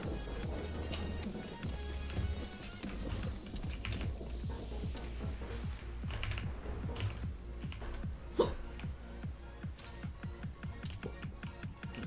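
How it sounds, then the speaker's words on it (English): Repeated hiccups, a steady series of short sharp catches in the throat, sound close over a bed of keyboard typing and clicks while someone plays a game. "I've got the hiccups."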